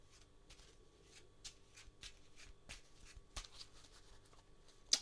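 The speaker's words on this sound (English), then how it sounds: "So let's give the deck a shuffle to start with." Close, quiet riffling and snapping of a deck of playing cards being shuffled by hand in a series of short bursts, ending with a sharper card snap.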